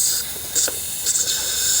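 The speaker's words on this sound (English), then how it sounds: "Now I'm going to spray a little bit of air down into the hole here." Compressed air is sprayed down into a hole in a Kohler XT675 engine on a Poulan lawnmower, giving two short, sharp hissing bursts close by over a faint background hiss.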